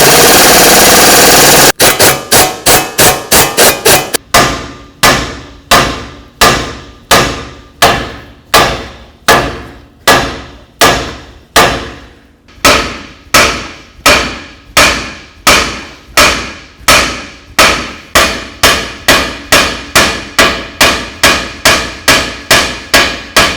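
Heavy hammer blows on the wheel hub and steering knuckle of a 2006-12 Ford Fusion, with loud metallic strikes that come in quick bursts and then a steady repeated rhythm, each ringing briefly, with no talk.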